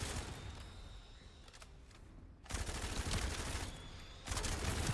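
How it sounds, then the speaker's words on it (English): Machine gun fire in the shooter video game The First Descendant, dense rapid bursts of shots broken by a short lull, loud and close with no speech. "Pull out the machine gun and clear out some of these ads."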